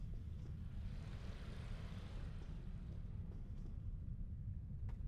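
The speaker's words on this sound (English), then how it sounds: "Another view of the waterfall." Steady, broad rushing roar of a waterfall in the video game Star Trek Online, a continuous even wash of falling water with no pauses.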